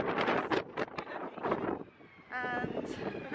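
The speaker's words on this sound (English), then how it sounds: "It's very windy." Heavy wind buffets an outdoor microphone in gusty weather, with low rumbling bursts rising and falling beside a speaking voice.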